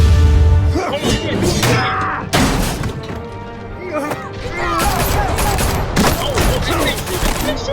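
Gunfire volleys and crashing impacts in Batman: The Telltale Series, a loud, dense burst of shots and shattering hits with music, layered over the game's score.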